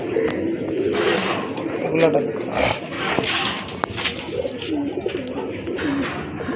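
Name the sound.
pair of native Gola pigeons cooing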